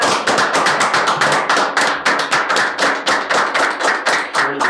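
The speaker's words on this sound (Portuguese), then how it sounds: "Salve de palmas." An audience at a talk-show podcast claps in a fast, steady unison rhythm, with sharp, loud, evenly spaced claps running without a break.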